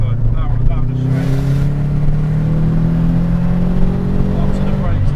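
Subaru Impreza WRX STI engine pulling hard down a straight from the cabin, a steady loud drone rising slowly in pitch under continuous in-car talk.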